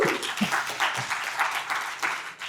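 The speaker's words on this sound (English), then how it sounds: "Can I get a little applause for that guy?" Scattered audience applause at an offensive AI security conference talk, a broad steady wash of clapping for a couple of seconds, fairly loud and close, with a few louder hand claps standing out.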